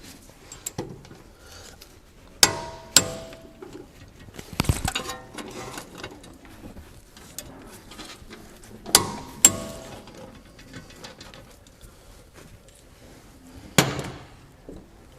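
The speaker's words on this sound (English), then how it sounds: "So we've set the torque wrench to 103 Newton meters, and we're going to tighten up these two carrier bolts." A torque wrench tightens the rear brake carrier bolts on a Jaguar XF, with several sharp clicks in pairs and some metallic handling and rattles between them in a quiet workshop.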